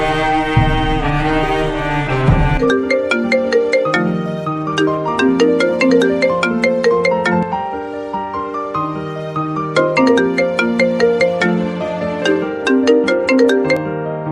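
A mobile phone ringtone plays loud and close during an unanswered call, a repeating melodic tone pattern looping steadily, preceded by a short burst of noise at the start.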